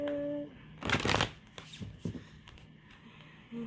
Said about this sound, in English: So we're going to get started shuffling.